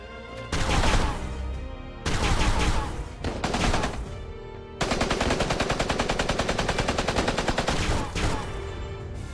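Soldiers fire a volley of guns in a video game: loud bursts of rapid gunfire in several separate blasts, ending in a long, steady rattling barrage close up, with no talk.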